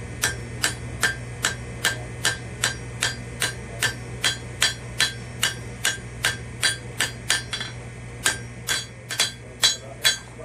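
Steady, rhythmic hammer blows ring out on iron being drawn out into legs for a colonial-style candleholder, about two strikes per second, bright and metallic over a low constant hum, with no talk.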